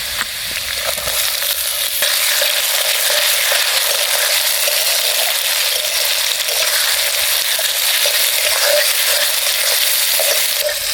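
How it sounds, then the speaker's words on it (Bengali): Chopped tomato fries with browned onions in an oily pan, a loud continuous close sizzle with faint crackles throughout and no talking. "এবারে টমেটো কুচি দিয়ে দেব"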